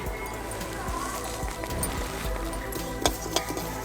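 Mustard seeds and cumin sizzle in a hot kadai, a steady close crackle and fizz with a few sharp clinks of a spoon against the pan near the end.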